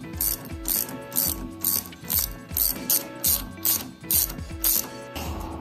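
Ratchet wrench tightening the 17 mm strut top nut on a Honda CR-Z front strut, a steady run of quick metallic clicks in repeated bursts of several strokes, close and clear with no talking.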